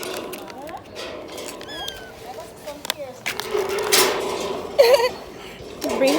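A kitten meows a few times during a car ride, short rising cries near the end over road rumble and small rattles, with a person briefly talking.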